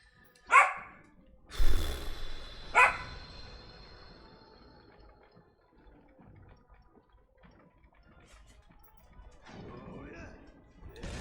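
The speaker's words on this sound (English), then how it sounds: "You're gonna just run out and bark again." A dog barks three times in quick succession near the start, sharp and close, followed by quieter rustling and faint background noise.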